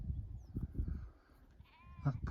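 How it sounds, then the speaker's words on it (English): A sheep, a scruffy-looking ewe with her lamb in the Lake District countryside, gives a short bleat near the end, following a stretch of low rustling outdoor noise. "That poor little beshaggled looking sheep with its little baby."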